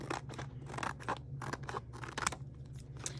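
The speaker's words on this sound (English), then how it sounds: "I like to cut off the excess because then I'm not wasting as much vinyl." Crisp scissor cuts slice through excess craft vinyl sheet, a rapid series of about a dozen close, crunchy snips in uneven rhythm over a steady low electrical hum, no talking.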